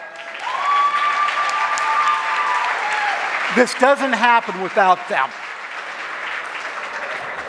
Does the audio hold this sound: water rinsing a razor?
no